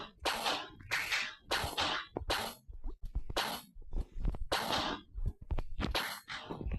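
Gunfire from a weapon in a video game, a rapid series of sharp bursts with short gaps, loud and repeated through the whole stretch without talk.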